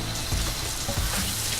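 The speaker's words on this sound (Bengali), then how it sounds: "একটু কষিয়ে নিচ্ছি।" Salted onion sizzles with ginger and garlic paste in a hot pan for a chicken curry with green olives: steady close frying crackle, with a few soft scraping stirs through it and no talk.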